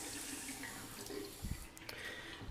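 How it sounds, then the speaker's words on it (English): Water runs steadily from a bathroom faucet after a plumbing repair, a constant hiss that continues throughout with a few faint clunks and splashes near the middle. "today I got the water working."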